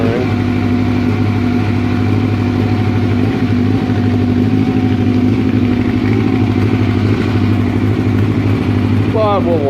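A Honda CB700sc motorcycle engine runs steadily on the choke with a slight flutter, a loud continuous mid-pitched drone with a fast rhythmic pulse throughout.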